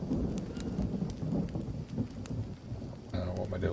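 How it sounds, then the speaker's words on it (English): Heavy rain and rumbling thunder in the jungle survival game Green Hell, a dense steady downpour with low thunder rolls, growing louder and fuller near the end. "Tipping down with rain again"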